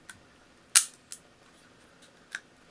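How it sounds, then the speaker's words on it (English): A Mamiya C330 twin-lens camera shutter fires at 1/500th second, a sharp close mechanical click followed by fainter clicks of the mechanism. "Let's step down through the shutter speeds and just see how it sounds"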